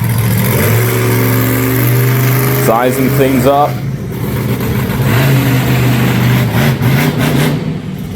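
A monster truck engine idles and revs hard, loud and close, as it lines up for a hit in a wheelie competition at a live monster truck event, with an announcer talking over the rumble.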